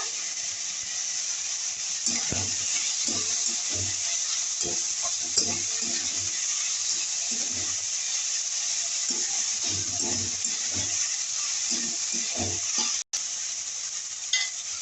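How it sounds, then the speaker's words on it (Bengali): Chopped cabbage is stir-fried in a hot pan, giving a constant sizzling hiss with repeated close spatula scrapes and one brief sharp click near the end. "নাড়াচাড়া করে আমি দিয়ে দেব বাঁধাকপি কুচিটা"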